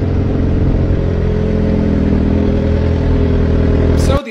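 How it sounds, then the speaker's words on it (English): A motorcycle engine runs loud and close in a steady, buzzing growl with a slight rise in pitch, then cuts off abruptly at the end. "A motorcycle."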